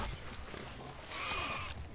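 In a video game, a goat attacks the player, giving a loud, rough bleating cry that swells near the end of the two seconds over a busy, noisy game background.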